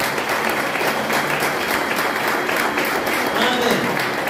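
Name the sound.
congregation applause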